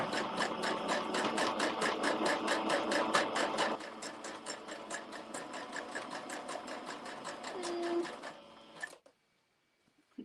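An embroidery sewing machine set to zigzag stitch runs in a fast, steady rattle of needle strokes, loud and close, easing slightly midway before stopping abruptly near the end.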